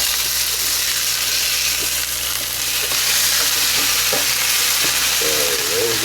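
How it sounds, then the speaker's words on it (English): Burger patty grease popping and sizzling on a Power Smokeless Grill, a steady loud frying hiss throughout with scattered sharp pops and crackles. "we got to be real careful for that grease in there popping all around"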